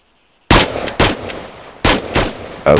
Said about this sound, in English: open fire when you're ready